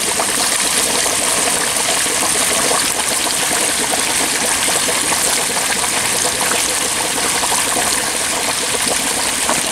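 Oil bubbles vigorously in a Thanksgiving turkey deep fryer pot with the burner off, a dense, steady, loud sizzling and gurgling that continues evenly throughout without voices.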